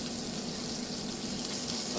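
Salmon fillet frying skin-side down in a pan, a steady close hiss of sizzling fat holding even and unbroken throughout with no other sounds on top.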